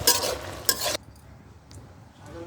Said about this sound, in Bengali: তেল দিয়ে রসুনের সম্বাদ দিই